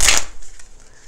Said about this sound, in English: One more shuffle. This is the Goddess Oracle.